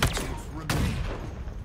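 Sniper rifle fire in Halo Infinite, a sharp single shot cracking out midway through with a heavy booming tail, amid other game noise and a player's voice talking throughout.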